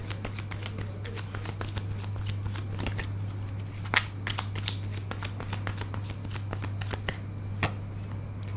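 Tarot cards shuffled by hand in a steady, rapid run of crisp riffling snaps, close and fairly loud, continuing throughout over a constant low hum, with no talking.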